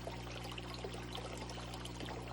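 Water pours steadily into a 29-gallon glass aquarium, a continuous quiet rushing and splashing with a low steady hum beneath, no talking.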